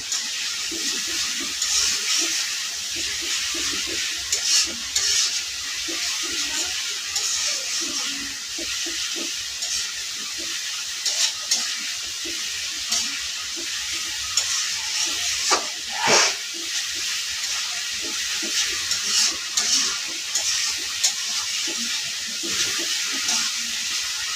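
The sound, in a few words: spice paste being sautéed and stirred in a pan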